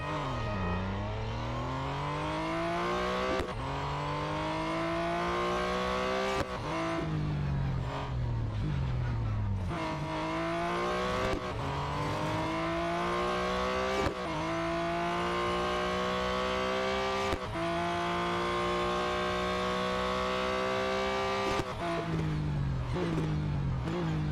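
Race car engine in the video game Real Racing 3, loud and continuous, revving up through repeated gear shifts with rising and falling pitch, with occasional tire noise.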